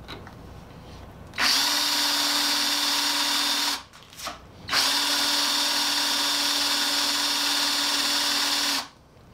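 A small Black & Decker 7980 drill sharpener grinding a drill bit, its motor whining steadily for about two seconds, stopping briefly with a short blip, then running again for roughly four more seconds before cutting off.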